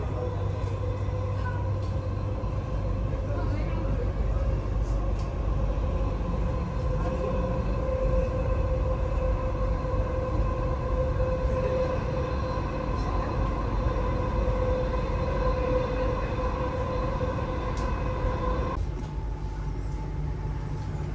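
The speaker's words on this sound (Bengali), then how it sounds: "The final destination of this train is Center Dubai Tram." A Dubai Metro train runs steadily with a continuous rolling rumble and an electric whine heard from inside the carriage, and the tone shifts slightly near the end.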